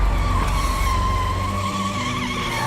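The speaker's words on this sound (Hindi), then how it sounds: "और ड्राइवर उससे बचने के लिए इमरजेंसी ब्रेक लगाता है" A car skids under emergency braking in a cartoon sound effect: a loud, sustained tire screech over a roaring engine that holds for close to three seconds without pause.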